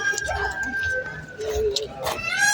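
Fowl in a pen at the OC Fair cluck and crow in short bursts nearby, while voices and fairground noise carry on underneath.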